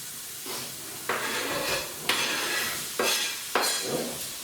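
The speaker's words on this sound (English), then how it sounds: "Going to add the chopped onions." Chopped onions hitting a hot pan, several bursts of sizzling and stirring scrapes spaced about a second apart, fairly quiet and close.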